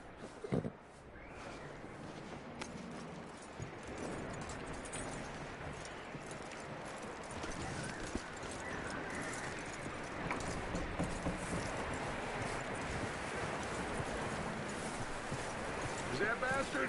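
Horse hooves clip-clop steadily in the Red Dead Redemption 2 video game, a rhythmic trot close by over a windy outdoor backdrop, with voices speaking throughout.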